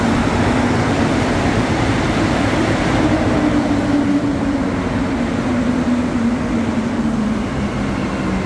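A Montreal Metro AZUR subway train pulls into Vendôme station with a steady, loud rumble that fills the platform, a faint whining tone gliding slowly downward as it decelerates, with no talk over it.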